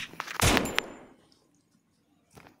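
A short burst of gunfire from the ATC gun in the Free Fire video game, a loud cluster of sharp cracks followed by a fainter single shot a moment later, with no voices.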